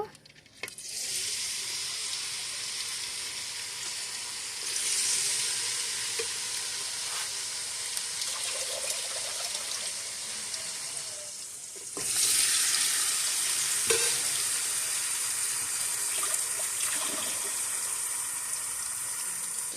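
Small pieces of local chicken hit hot soybean oil in a wok and fry with a loud, steady sizzle, swelling sharply twice as more goes in, with occasional stirring scrapes.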